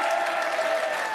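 Studio audience on a French evening talk show breaks into sustained, dense applause for a guest, a steady wash of clapping filling the short stretch without a break.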